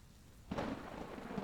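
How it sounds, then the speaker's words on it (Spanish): A thunderstorm in the Sierra de Álvarez forest: after a half-second of quiet a rumble of thunder breaks in, rolling on over steady, close rain. "En cuanto la lluvia cesó, salimos disparados hacia el auto"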